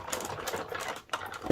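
Paper trimmer blade running through a sheet of designer series paper stacked on a card front, a steady close scraping slide lasting over a second with a brief pause and a final cut.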